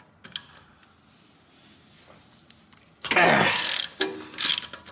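A ratchet clicks as it turns a bolt biter extractor socket with a wobbly head on a bolt of a Skoda Octavia vRS, first as faint scattered ticks, then as a loud, fast run of ratcheting close by with short bursts after.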